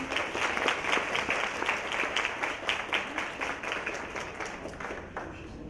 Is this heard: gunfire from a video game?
no